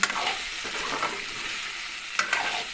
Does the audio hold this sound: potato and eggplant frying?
yes